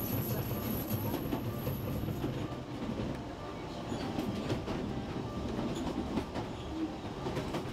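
A Welsh Highland Railway train pulls out of Ffestiniog station, steady rumbling of carriages and rhythmic wheel clatter heard from on board, moderately quiet and continuous.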